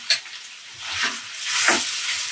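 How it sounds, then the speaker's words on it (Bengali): Potatoes frying in oil in a pan for Bengali dhaba-style aloo dum, a steady close sizzle with soft stirring scrapes rising and falling over a couple of seconds. "আলুটা ভাজা প্রায় হয়ে গিয়েছে।"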